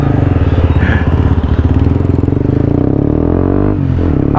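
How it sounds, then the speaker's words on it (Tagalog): 2017 Honda CBR150R with an Akrapovic M1 copy exhaust muffler and its silencer removed, idling loud and close with a steady bassy, throbbing putter and a brief blip near the end. "So bigyan ko lang kayo ng idea mga paps kung ano yung tunog ng ating bagong muffler."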